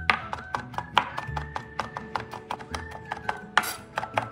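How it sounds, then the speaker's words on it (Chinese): A knife chops soaked, drained dried shrimp on a board in a home kitchen, giving quick, steady, evenly spaced strikes over about four seconds, with a faint sustained tone behind. "这是泡软后虾米，沥干水分后再剁碎。"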